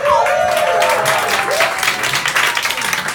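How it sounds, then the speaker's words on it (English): A cabaret audience claps and applauds, a dense, loud, continuous patter heard close throughout. "I'm clapping as best I can"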